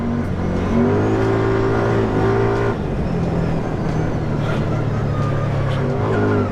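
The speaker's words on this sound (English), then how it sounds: "I just can't get over the sound that this V-twin makes when you're just thrashing on it." A 2019 Kawasaki Teryx4 LE side-by-side's V-twin engine revs hard and steadily with a low droning tone, pitch shifting as it's thrashed, loud and close throughout.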